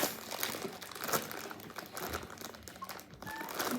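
Crinkly plastic wrapper of a Labubu blind box package torn and crumpled open up close, a continuous rustling crackle with a few sharper crunches and no talk.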